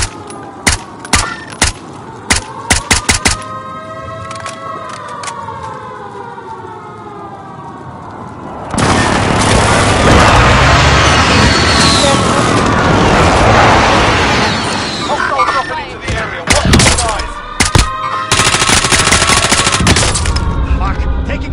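Gunfire and explosions in the video game Warzone: bursts of sharp shots early, then a long loud stretch of dense automatic fire and blasts, with more scattered shots after and a wailing siren-like tone in the background.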